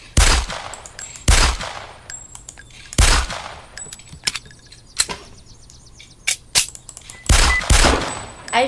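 Gunshots from an old firearm in a zombie video game, loud sharp single reports spaced a second or more apart, each with a short ringing tail, with clicks and mechanical handling noises between shots.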